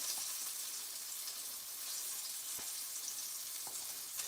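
A pollock fillet frying in a pan gives a steady, even hiss of sizzling oil, close but fairly soft, with a couple of faint clicks.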